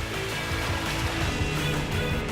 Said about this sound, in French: Et les vagues cassent pile au milieu du passage.